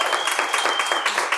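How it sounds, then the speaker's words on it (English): A brief burst of audience clapping greets a guest named Chilando. It is a short, close, even patter with a faint steady tone running beneath it. "Ladies and gents, one time round of applause for the man Chilando."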